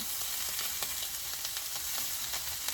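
Meatballs frying and sizzling in a pan for spaghetti, a steady close crackle with bursts of spatter as they are stirred and moved around, no voices.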